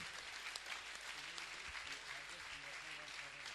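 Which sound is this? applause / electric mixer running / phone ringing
applause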